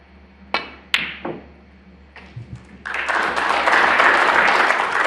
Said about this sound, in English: Deserved applause for that one,